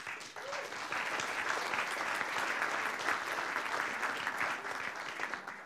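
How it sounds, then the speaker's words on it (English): Sustained applause from a conference audience at a Young Nationals federal gathering, many hands clapping steadily at moderate volume in an indoor hall for several seconds. "so he will hear those claps"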